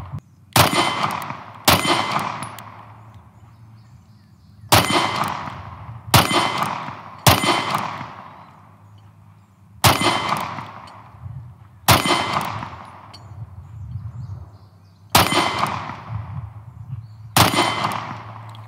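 Gunshots from a Smith & Wesson M&P Compact 2.0 pistol, nine sharp, loud reports spaced unevenly a second or more apart, each with a short ringing decay and no talking.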